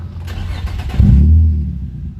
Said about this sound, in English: Look, the car start normal.